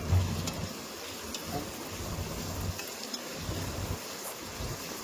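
Tomatoes are stirred into a pan of Chennai-style chicken biryani, giving a steady sizzling, frying hiss with soft scraping stir strokes, close and continuous, with no talk.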